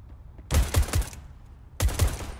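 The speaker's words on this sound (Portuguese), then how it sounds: "Fer, você não erra esses tiros, Fer." Two quick bursts of gunfire crack out in Counter-Strike: Global Offensive on the Overpass map during a pro match, each a short cluster of sharp shots separated by a pause.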